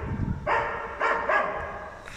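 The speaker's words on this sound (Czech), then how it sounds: "Nebuď na ty psy tak zlej." Dogs barking near an abandoned power plant: several loud, close barks in an irregular series over a noisy outdoor background.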